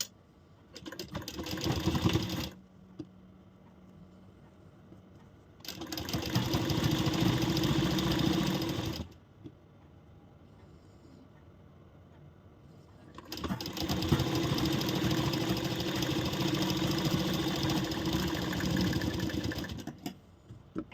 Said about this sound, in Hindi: तो चलिए अब इस पर सिलाई लगाते हैं।